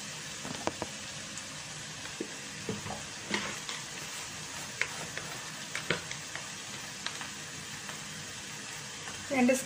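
Kashmiri chili powder stirred into a frying masala for Kerala-style fish curry, a quiet crackling sizzle punctuated by scattered scrapes and taps of a spoon, ending with a brief louder clatter.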